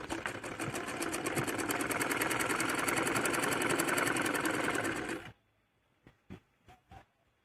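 A sewing machine stitches the folded half-inch hem of cotton palazzo pants in one continuous, loud, rapid whirring run of about five seconds, then stops, and a few soft handling clicks follow.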